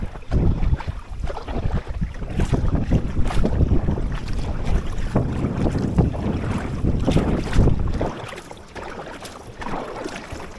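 A canoe moves across a lake on Saimaa in wind, with heavy, continuous wind buffeting over water swishing and sloshing, easing off toward the end.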